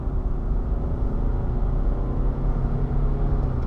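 A 2020 Land Rover Discovery Sport accelerates hard from a standstill toward 100 km/h in S mode, its engine rumbling as a steady, dense roar heard from inside the cabin.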